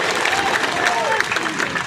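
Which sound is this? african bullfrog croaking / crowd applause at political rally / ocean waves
crowd applause at political rally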